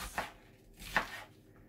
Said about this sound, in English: So then chop it in slices